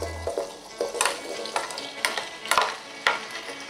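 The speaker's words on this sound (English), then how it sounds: "I'm gonna put my potatoes into the skillet where the butter is" Potatoes frying in melted butter in a skillet, with a steady crackling sizzle and several sharp stirring scrapes of a utensil against the pan.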